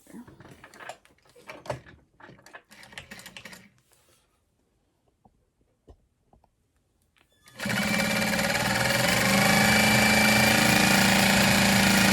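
A sewing machine stitches a vinyl crossbody bag, running steadily and loudly for several seconds after a stretch of soft tapping and handling noises and a quiet pause.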